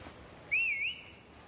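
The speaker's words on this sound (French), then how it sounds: "t'es pas gêné de me siffler." A single rising-and-falling whistle from a person calling out to someone, clear and fairly close, standing alone against a quiet background for about half a second.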